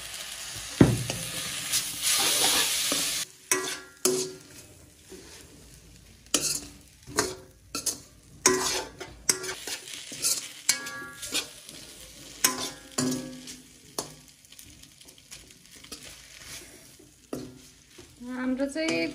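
Kodo millet noodles with soy sauce sizzle in a hot pan, punctuated by frequent sharp stirring scrapes and utensil knocks, close and fairly loud.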